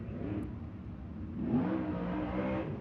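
A USCS sprint race car roars down the front stretch at Riverside, a steady mid-range engine drone that swells louder past the midpoint as it nears, then holds.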